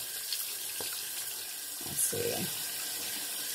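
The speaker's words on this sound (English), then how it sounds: "And also wash your hands again." Soft, steady hiss of tap water running at a sink during hand washing, fairly quiet and continuous, with a brief spoken phrase midway.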